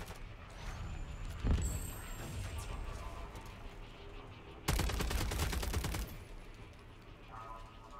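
Modern Warfare 3 Zombies gunfire, with sustained loud rapid bursts and crashing impacts, the heaviest burst landing mid-clip over a noisy game mix.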